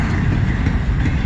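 A westbound CN double-stack freight train passing near Emmett, Michigan: a loud, continuous low rumble of rolling cars and engine noise, steady and close throughout.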